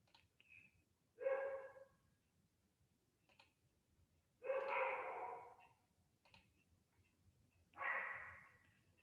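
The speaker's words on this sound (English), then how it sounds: "Can y'all hear my dogs?" Dogs bark in the background during an online class: three separate bursts spaced a few seconds apart, muffled and moderately distant, with quiet gaps between them.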